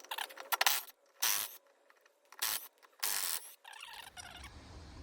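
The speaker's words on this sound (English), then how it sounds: "I know these are not impact sockets, but they do the job just for loosening." A socket wrench ratchets in quick clicking bursts while loosening bolts during brake service on a Morris Minor, each burst followed by a short pause, close and clear with no talk.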